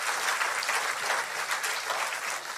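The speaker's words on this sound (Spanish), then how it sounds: "Y le dan un fuerte aplauso al Cristo de la gloria." A church congregation bursts into loud, sustained applause, many hands clapping in a dense, close wash that swells and holds for a few seconds.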